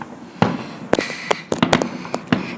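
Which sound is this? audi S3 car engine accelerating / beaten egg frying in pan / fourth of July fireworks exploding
fourth of July fireworks exploding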